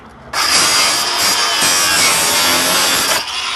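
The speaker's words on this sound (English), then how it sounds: "Time for the grinder." An angle grinder cuts through a junk part from an old Subaru, a loud, steady, harsh whine that starts abruptly and holds for about three seconds before dropping off.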